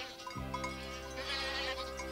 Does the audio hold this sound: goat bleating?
yes